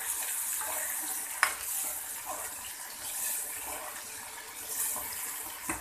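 Sliced tomatoes stirred into frying onions in a pan, soft steady sizzling with wet scraping and a sharp utensil knock early on, close and unaccompanied by talk.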